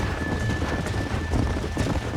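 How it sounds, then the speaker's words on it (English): Horses running in the Western video game Red Dead Redemption, a steady drumming of hooves with windy rush throughout, close and fairly loud without talk. "There's the horses!"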